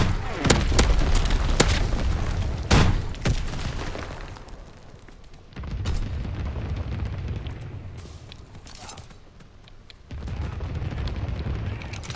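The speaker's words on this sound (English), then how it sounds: "Sending mortar rounds." Mortar rounds exploding in the WW2 video game Call of Duty WW2, a string of heavy booms and blasts, several sharp hits early then rumbling bursts that rise and fade, loud and fairly close.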